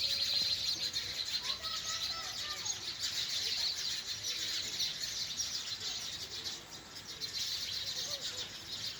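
Sparrows chirp in a rural village setting, a steady dense chatter of small high calls running throughout over a faint outdoor background, fairly close and continuous without pause.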